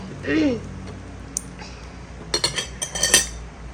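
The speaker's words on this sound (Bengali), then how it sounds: "প্রত্যেকটাই চামচ দিয়ে দিলাম" Metal spoons placed into serving dishes, a few light clinks and taps on crockery that cluster toward the end, close and fairly quiet against a soft room background.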